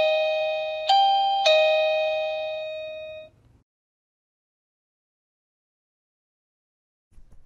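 A Toucan wireless video doorbell chime rings alone with two bright, close ding-dong strikes a half second apart, their tones ringing and fading over about three seconds before quiet, then a faint rustle near the end.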